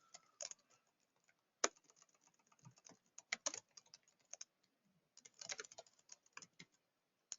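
Quiet computer keyboard typing in short irregular bursts of clicky keystrokes, with pauses between flurries, heard alone without talk.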